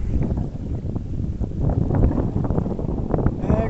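Gusty wind buffets the microphone with a constant low rumble and rushing noise, loud and close, no voices heard, on the coast at Maragogi as the tide rises.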